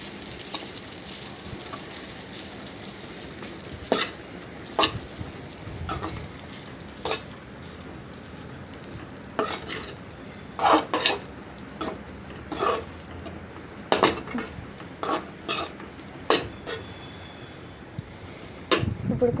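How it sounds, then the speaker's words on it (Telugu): Rice is stirred and mixed in a pan for fried rice, with irregular clinks and scrapes of a utensil against the metal over a faint, low sizzle. The knocks come in scattered bursts, sometimes doubled, and no one speaks. "ఇప్పుడు మొత్తం బాగా కలిసే వరకు కలుపుకోవాలి."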